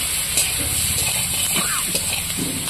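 Green chilli and turmeric fry in hot oil with salted potatoes, making a continuous, close hiss and sizzle with a low bubbling undertone and no speech.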